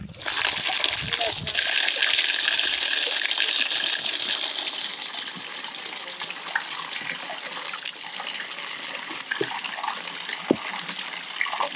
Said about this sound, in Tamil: தண்ணி திறந்துடுவா.